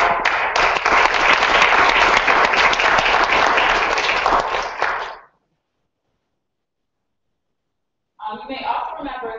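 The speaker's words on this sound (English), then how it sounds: "let's give a round of applause to you all" A meeting audience claps loudly and steadily for about five seconds, then falls silent; a voice begins speaking after the pause.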